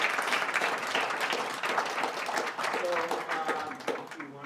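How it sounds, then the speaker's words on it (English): An audience at an author conversation event breaks into sustained clapping, a dense, even wash of hands that fades slightly at the end, with a few voices murmuring underneath. "Can we get a round of applause for Charlie and Matt?"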